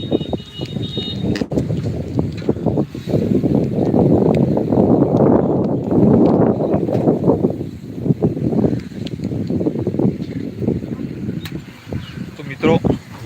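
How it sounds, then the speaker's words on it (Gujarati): Strong wind roars continuously in heavy gusts under a low rain cloud with a light drizzle falling, buffeting the microphone in an unbroken, loud rush. "વરસાદ પણ થોડો થોડો ચાલુ છે અને પવન જોરથી આવી રહ્યો છે"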